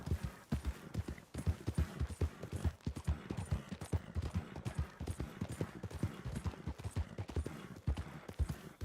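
Horse hooves in Red Dead Redemption 2 clip-clop in a steady, fast rhythm of close, distinct thuds, continuing evenly throughout without talk.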